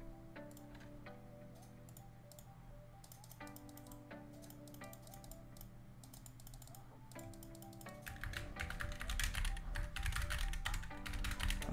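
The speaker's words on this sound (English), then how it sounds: "I'm typing." Steady clicking of a computer keyboard during a Donut SMP stream, close and fairly quiet, with louder, denser bursts of keystrokes and background noise toward the end.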